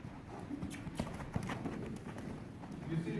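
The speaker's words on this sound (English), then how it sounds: "So let's see what his canter looks like." A mustang canters with a steady, muffled beat of hooves on ground, continuous through the short stretch at moderate distance.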